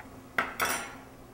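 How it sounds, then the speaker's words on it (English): A knife cuts through smoked sausage on a board with two short, sharp cutting strikes a fraction of a second apart, close and fairly loud against a quiet kitchen background. "we're going to cut the smoked sausage in half"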